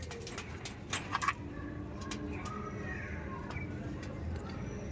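Andhra Kalshira pigeons coo in a loft, with a few soft, brief calls rising over steady low background noise and a little faint talk.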